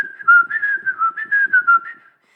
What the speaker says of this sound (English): they were whistling